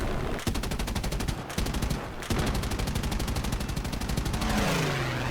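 Rapid, continuous machine gun fire from an F4U-1A Corsair fighter in the combat game War Thunder, dense loud bursts with brief pauses and engine drone underneath.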